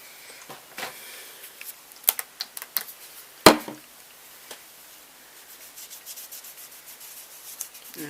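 Makeup swatches are wiped off skin, giving soft irregular rubbing and dabbing strokes, faint and close, with a few sharper brushing taps in the middle.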